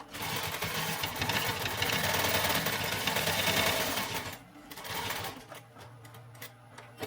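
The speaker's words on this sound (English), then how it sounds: "I'm just going to zigzag stitch him" A sewing machine zigzag-stitches a backpack, running in a steady, fast mechanical chatter for about four seconds before slowing into shorter bursts and pauses.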